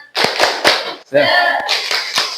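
A school class claps out a short patterned spirit clap led by one pupil, sharp group claps alternating with chanted voices in a quick rhythm, loud and close.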